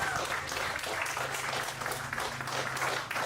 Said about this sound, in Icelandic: gefum þeim með gott klapp